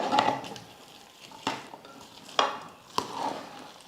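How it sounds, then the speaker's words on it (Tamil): A spoon stirs a ghee tempering of pepper and cumin into pongal in a pot, giving a few sharp metallic clinks and scrapes spaced about a second apart over a soft background clatter, close and moderately loud with no talking. "தாளித்தது சேர்த்ததுக்கப்புறம் பொங்கல் வந்து நல்லா கலந்து விட்டுடுங்க"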